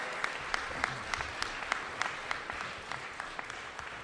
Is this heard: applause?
yes